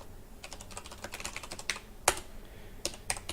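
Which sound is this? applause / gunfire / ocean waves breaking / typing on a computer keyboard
typing on a computer keyboard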